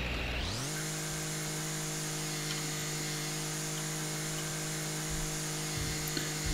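Lawn mower cutting grass in House Flipper, a constant motor drone that winds up in pitch at the start and then holds a steady, close, buzzing whine throughout.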